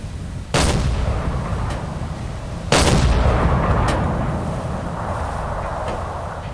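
Heavy deck-gun shots from a submarine in the WWII naval game Silent Hunter 4, USS Nautilus SS-168: two loud booming blasts about two seconds apart, each followed by a long rumbling decay, with a fainter distant report between them.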